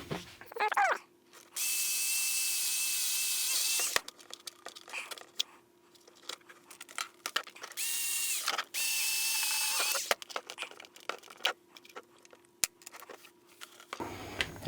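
A drill bores through the vac pipe stub of a Stihl SH 86C two-stroke blower/vac in short bursts of loud high whirring, close by, separated by quiet gaps with small clicks and handling noises.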